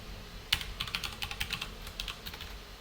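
Typing on a computer keyboard, a quick irregular run of crisp key clicks beginning with one sharper strike, close and fairly quiet, with no talking.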